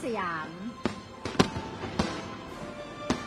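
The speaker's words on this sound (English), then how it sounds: "I really wonder how much is in these fireworks." New Year fireworks over the river in Bangkok burst in a series of sharp, loud bangs at irregular intervals, with a voice speaking briefly at the start.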